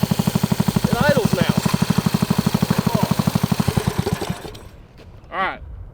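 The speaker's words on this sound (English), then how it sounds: "it idles" A backyard race car engine idles with a steady, loud, even pulsing throb that fades out near the end, while voices talk and call out over it.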